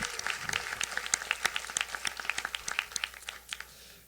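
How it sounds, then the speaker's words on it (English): Audience applause at a college Charter Day ceremony in a hall, with a crowd's scattered clapping going on steadily and fairly faint, its distinct individual claps standing out. "That's also worth a big round of applause."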